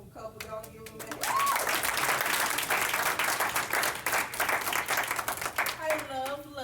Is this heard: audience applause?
yes